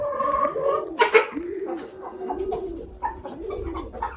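Pigeons cooing in soft repeated gargling phrases close by in a farmyard, with chickens wandering nearby and a few faint other noises.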